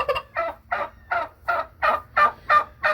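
Turkeys gobble inside a barn in a rapid, steady run of about eight loud, close calls, each a throaty warbling burst.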